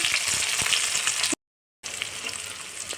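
Onion and tomato hit hot oil for sambar rice, giving a loud, steady frying sizzle that stops abruptly for a moment of silence, then resumes just as dense.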